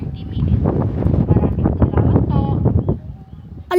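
Strong wind buffets the microphone in a loud, rumbling roar that fades near the end, with faint sounds mixed in.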